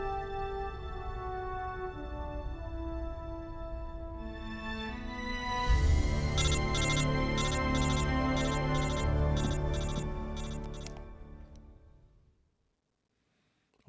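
A phone rings in the Metal Gear Solid Delta: Snake Eater finale, a repeating electronic ring pulsing over music and ambience for several seconds before it cuts off into silence.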